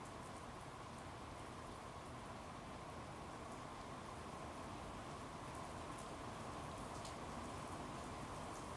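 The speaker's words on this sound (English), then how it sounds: "It is raining outside heavily" Heavy rain falls outside as a dense, steady hiss that stays constant throughout with no voices over it, heard fairly faintly as if through a window.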